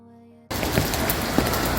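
After a brief musical tone, steady rain suddenly fills the air in Daegu, a dense hiss of drops pattering on surfaces close by.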